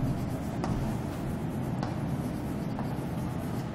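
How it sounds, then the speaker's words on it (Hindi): Chalk or marker strokes on a classroom board during a lesson on electromagnetic induction, a steady scratchy rubbing at close range with a few faint sharper taps, heard alone without talk. "तो अब मैं इस बात को लिख रहा हूं यहां पर"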